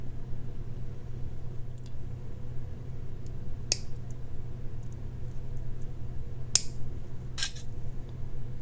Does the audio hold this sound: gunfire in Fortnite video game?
no